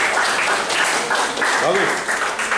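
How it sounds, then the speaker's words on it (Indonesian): Classroom applause fills the clip, a steady dense wash of clapping from a group of students, with voices calling out over it throughout. "Tepuk tangan untuk kita semua."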